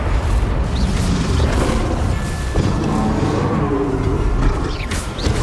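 Incendio fire spell cast in Hogwarts Legacy, a dense, loud booming burst of combat sound with crashing impacts that runs steadily through the whole moment, with no speech over it.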